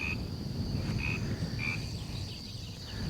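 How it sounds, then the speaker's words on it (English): Frogs croak at a rain-filled farm water tank in three short, evenly spaced calls over a steady insect and ambient hum, with no one talking. "Frogs."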